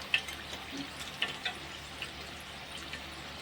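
Modaks finishing in hot oil make a quiet, even sizzle, with a few light bubbling pops and faint clicks scattered over the few seconds.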